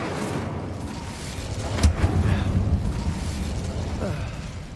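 An Incendio fire spell cast in the video game Hogwarts Legacy: one sudden whooshing burst that flares up and rumbles for a second or two, then fades into a low background drone.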